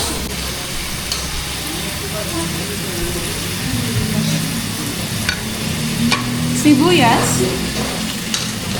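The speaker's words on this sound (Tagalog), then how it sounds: "Paghahalu-haluin natin ang talong, kamatis, dahon ng sibuyas" Eggplant, tomato and onion leaves are stirred in a sizzling pan at a school cook-off, with a continuous frying hiss and scraping stirs, while people talk faintly in the background.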